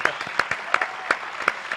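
Audience applause rings out in a French studio talk show, a short burst of dense, steady clapping with sharp individual claps standing out, fairly close and even in level.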